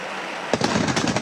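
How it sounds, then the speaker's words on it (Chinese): Beehive firecrackers at the Yanshui festival go off after a brief lull in a sudden burst of rapid, loud crackling blasts that continue to the end. "3个主炮声差不多200万支蜂仔炮轮番发射，炮声响遍咸水小镇"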